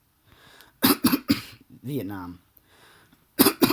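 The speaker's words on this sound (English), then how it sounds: "sorry, I got a big cough" A person gives a few harsh, close coughs in short bursts, first a quick cluster and then one more near the end, with a spoken word in between.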